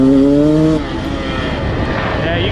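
A 2019 Beta 200RR two-stroke enduro motorcycle engine runs loud and close, a steady buzzing drone that drops slightly in pitch partway through, with wind noise on the microphone.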